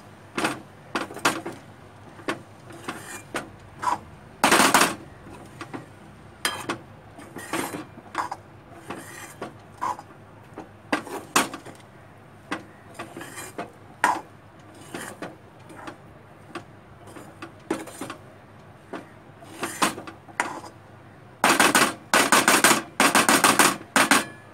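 Bell peppers (shimla mirchi) roasting in a pan, stirred with a utensil. Irregular metallic scrapes and sharp clanks against the pan come one after another, clustering into a rapid flurry near the end.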